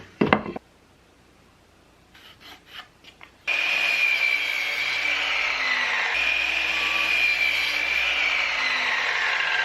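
A jigsaw cuts pieces of wooden French cleat, starting with a few short taps and brief buzzes, then running loud and continuous with a steady high-pitched whine for several seconds.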